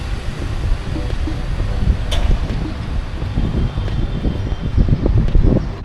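Steady wind rushes and buffets outdoors at an apartment building in Kinshasa, a continuous low roar with gusty rumbling and no voices.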